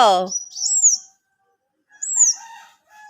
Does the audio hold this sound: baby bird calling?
yes